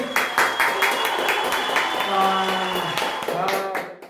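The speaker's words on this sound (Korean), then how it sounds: "일단 박수." A small group of people clap briefly at a university admissions interview session, with a few sharp claps at the start under voices and speech continuing through the rest.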